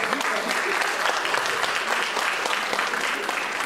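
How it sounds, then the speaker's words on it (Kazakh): An audience at a stand-up comedy show applauds, a dense, even wash of clapping from many hands sustained throughout with no break. "Шапалақтарыңыз."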